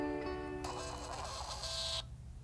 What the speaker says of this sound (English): I was just talking to my receipt printer